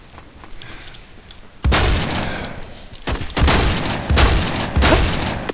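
Gunfire in Roblox Phantom Forces follows a quieter stretch, then comes in several loud, booming bursts with brief pauses between them, the shots heavy and close.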